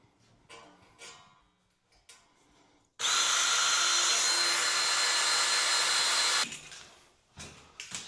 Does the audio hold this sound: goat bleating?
no